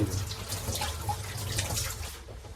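Tap water runs steadily into a sink while taro leaves are washed by hand, a close, continuous splashing flow with small drips and no talk.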